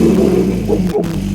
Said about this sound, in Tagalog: Kuya, ang ganda ng tunog ng motorsiklo mo, tunog Harley